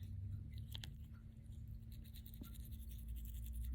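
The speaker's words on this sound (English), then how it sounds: "try again, kind of using the toothbrush" A toothbrush scrubs a pet's teeth from the side of the mouth, faint rapid bristle scratching over a steady low hum, with a few brief clicks and no talking.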